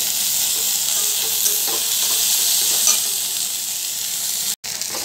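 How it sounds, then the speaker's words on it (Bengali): Garlic and onion fry in a pan with a steady, close sizzle that crackles softly throughout, with faint stirring noises and no talking. "হালকা ভেজে নেব রসুনের পেঁয়াজটাকে।"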